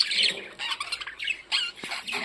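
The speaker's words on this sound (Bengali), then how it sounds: "ওই পাশে বসে আছে স্প্যাঙ্গেল বাজিকার রেনবো বাজিকার পাখি" Spangle and rainbow budgerigars squawk and chatter up close in a run of short, shrill, scratchy bursts with brief gaps between them.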